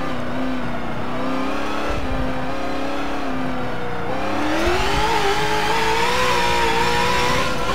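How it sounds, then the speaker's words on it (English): A naturally aspirated V8 race car in Forza Motorsport Group 5 racing revs steadily and loudly, its pitch dipping and then climbing smoothly through a long pull, close and continuous with no talk. "I like the linear power of this naturally aspirated V8."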